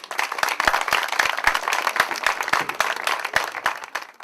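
A comedy show audience claps in a loose, rhythmic patter, individual hand claps standing out sharply and close amid a fuller round of applause, with no talk.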